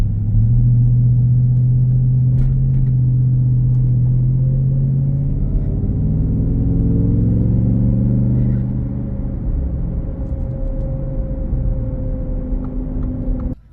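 A 2023 Ford F-150 Raptor R drives along with a deep, close engine rumble that shifts in pitch as it moves through the gears, then settles into a quieter, steady drone.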